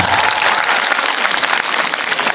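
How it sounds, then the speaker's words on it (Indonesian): An audience clapping hands at a gathering, a short, full burst of applause from many people, steady and fairly close, with no talking over it. "Tepuk tangan dulu tuh Bapak ini."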